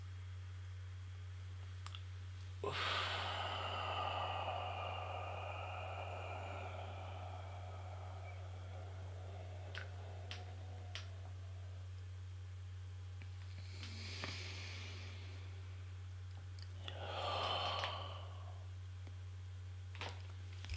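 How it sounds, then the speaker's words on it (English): Slow, soft exhales during a paced breathing exercise. A longer breath drifts out near the start and two fainter ones come later, all close and quiet over a steady low hum. "Slowly exhale for 8."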